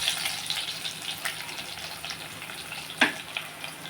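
Garlic frying in hot oil in a pan, a soft steady sizzle with light crackle and one brief louder clink or pop near the end, no speech.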